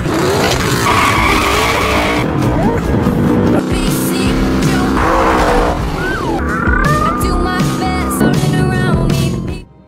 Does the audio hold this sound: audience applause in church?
no